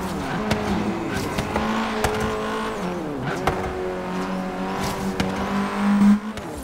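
A Renault race car drives hard, its engine droning and shifting pitch with revving, gear changes and brief tire noise, loud and close throughout.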